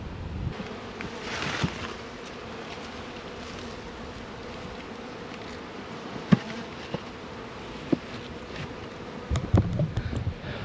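Honey bees buzz around a box of honeycomb filled with honey, a steady close hum with individual bees flying past the microphone, a few louder knocks and handling sounds near the end, no talking.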